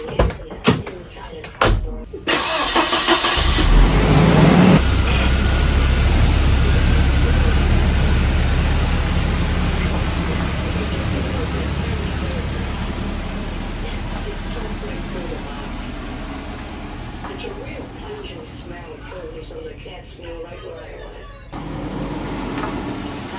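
A Volvo 240 wagon engine runs at idle with a steady low hum and a faint whine from a noisy power steering pump pulley, close and continuous, after a few knocks at the start.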